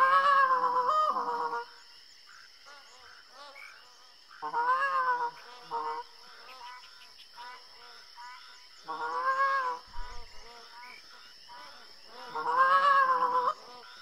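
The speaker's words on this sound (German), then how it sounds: "Oh, das ist eine einzelne Gans." In the hunting game theHunter Classic, a magpie goose gives repeated nasal honking calls in spaced bursts, moderately loud over a steady high electronic hum, with quieter calls between the stronger ones.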